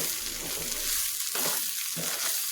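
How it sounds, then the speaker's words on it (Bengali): Pulao is stirred in a pot, with a steady sizzle and a few scraping strokes of the spoon against the pan, close and fairly quiet. "ভালোভাবে নাড়াচাড়া করে নিচ্ছি।"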